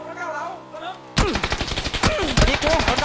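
Rapid gunfire in PUBG erupts after a quieter stretch of tonal game sound, a dense run of sharp, loud shots and bursts filling the rest, with players' voices talking over it.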